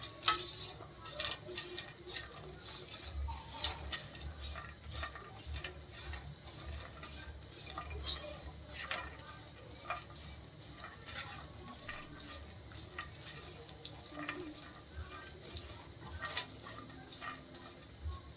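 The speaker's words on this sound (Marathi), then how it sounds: "मी बारीक बारीक करून घेतले काजू, बदाम आणि पिस्ता, ते पण भाजून घेऊया." Chopped cashews, almonds and pistachios roast in ghee in a pan, giving quiet, irregular scraping and ticking stirs with faint sizzle, close and soft throughout.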